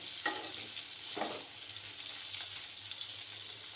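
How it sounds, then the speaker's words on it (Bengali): Eggplant fries in mustard oil with a steady, soft sizzle and a few brief stirring scrapes, heard close and alone. "বেগুনটাকে আমি একটু লাল লাল করে ভেজে নেব এই রান্নাটা কিন্তু সর্ষের তেলেই ভালো হয়"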